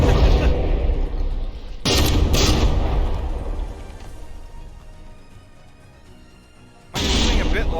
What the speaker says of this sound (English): these front guns are doing some damage